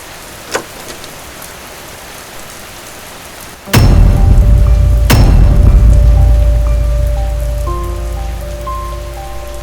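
Heavy rain bursts in abruptly after a quiet opening, then pours down loud and steady as a dense roar close by, with faint tonal music notes emerging underneath toward the end.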